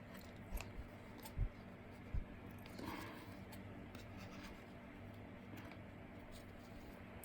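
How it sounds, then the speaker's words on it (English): Scissors trim loose strings from a stitched traveler's notebook during a craft project, giving a few faint, quiet snips spaced apart over a low room hum. "I'm trimming off these strings because I don't want those to pull the thread out."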